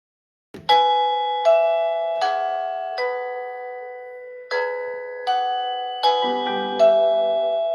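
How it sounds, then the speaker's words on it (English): A Reolink video doorbell chime: a series of melodic electronic tones rings out, about seven overlapping two-note strikes with ringing decay, clear and close with no voices. "Visitor is at the doorbell."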